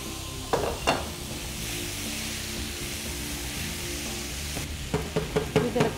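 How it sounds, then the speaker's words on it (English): Chopped tomatoes drop into a hot pan for chilli paneer, setting off a steady loud sizzle with a few sharp clatters of ingredients hitting the pan, then scraping stirring strokes near the end. "Now we're going to add the chopped tomatoes."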